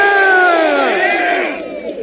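A large crowd at an outdoor political rally at the Georgia state capitol roars and cheers loudly, a dense sustained shout that slowly fades toward the end.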